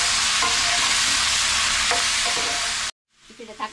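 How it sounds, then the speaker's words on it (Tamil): Chopped tomatoes hit hot oil in a pan for tomato pickle, raising a loud, dense, close sizzle with a few stirring knocks, which stops abruptly and then returns more faintly. "இந்த தக்காளி எண்ணெய்க்குள்ள போட்டாச்சு."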